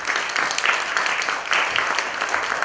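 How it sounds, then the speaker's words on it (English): Steady applause from a crowd, dense clapping that holds at full strength for the whole stretch with no voices standing out. "If we could have a big round of applause for that."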